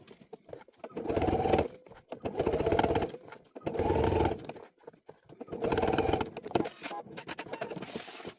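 A sewing machine stitches a zipper clutch bag closed, running in four steady bursts of about a second each, separated by short pauses, close and moderately loud.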